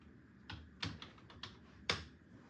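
Quiet typing on a computer keyboard in a library, a handful of separate, crisp key clicks spaced irregularly over a faint background hush.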